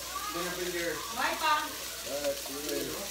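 Pork sizzles in a hot pan for Bicol Express, a steady frying hiss running under someone talking throughout.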